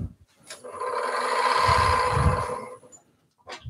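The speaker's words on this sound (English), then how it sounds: "we'll start with the roughing gouge first." A roughing gouge cuts spinning wood on a lathe, a sustained whirring, rasping tone of about two seconds that swells and fades, with brief knocks before and after.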